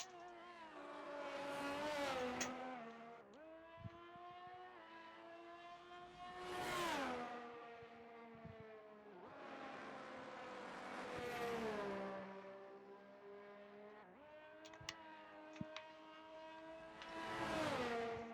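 Race cars pull out of the pits on new tyres during qualifying at Jeddah. Several engines whine past in turn, each rising and falling in pitch, with gaps of quieter droning between passes, heard from a moderate distance.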